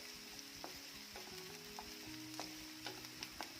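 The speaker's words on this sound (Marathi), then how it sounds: "सोनेरी रंगावर कांदा आपल्याला भाजून घ्यायचा आहे" Finely chopped onion frying in a pan for an okra stir-fry, a steady close sizzle with occasional sharp crackles and soft scraping stirs, no voices.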